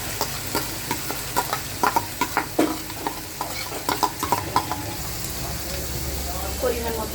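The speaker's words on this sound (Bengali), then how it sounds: "এখানে ব্লেন্ড করা মশলাগুলো দিয়ে দিচ্ছি। এখানে নারকেল বাটাটা দিয়ে দিচ্ছি।" Blended spices and coconut paste sizzle in a hot pan under a steady frying hiss, with a run of sharp scraping stirs and knocks against the pan, close and moderately loud.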